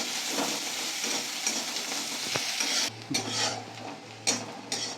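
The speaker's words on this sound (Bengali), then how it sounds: "পেঁয়াজটা ভেজে নেবো লাল লাল করে।" Chopped onion fries in oil in a wok, a loud close sizzle with scraping stirs; partway through the hiss softens and a low hum appears between sharper spatula scrapes.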